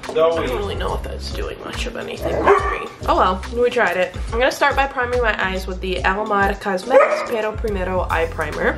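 A pet dog barks and yips in the background while someone talks steadily through a close, indoor makeup tutorial.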